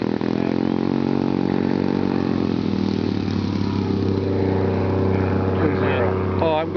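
Super Skybolt model airplane engine at takeoff, a loud, steady buzzing drone with rising harmonics throughout, close by, with voices talking over it.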